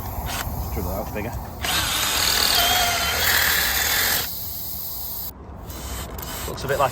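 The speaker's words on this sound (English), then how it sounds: "Let's drill it out bigger." Power drill enlarging a puncture hole in a car tyre, a whining burst that swells for a few seconds then drops away, close up with background noise before and after.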